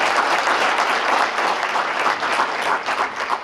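An audience at a Poetry Out Loud recitation event applauds, loud steady clapping from many hands filling the whole stretch without letting up.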